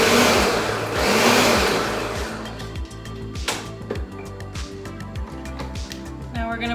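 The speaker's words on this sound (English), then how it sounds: "I'm going to throw it back on the blender and give it just a quick pulse" A blender whirs loudly at first, then settles into a rapid, rhythmic chopping churn, mechanical and close, pulsing a strawberry rhubarb slushie cocktail.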